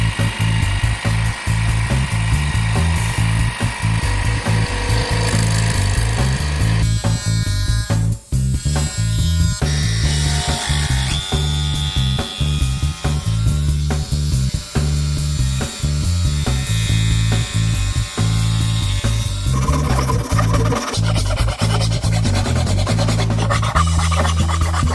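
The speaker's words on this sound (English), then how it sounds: "So I'll set the jigsaw up and get in and cut those out." Jigsaw cutting out marked shapes in a wooden board for vinyl record storage, a steady, loud buzzing rasp with rapid blade chatter running continuously and close throughout, with no talk.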